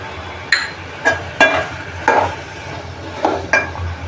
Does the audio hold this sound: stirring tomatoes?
yes